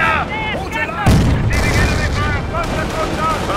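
Battle gunfire in Company of Heroes, a World War II strategy game, crackles steadily through a dense mix with a heavy boom near the start and radio-style unit voices calling out over it.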